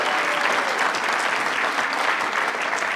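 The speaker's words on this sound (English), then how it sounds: "Let's give them a round of applause." A crowd at a county school board meeting applauds a state-championship cross-country team, a loud, dense, even patter of many hands clapping steadily for the whole stretch.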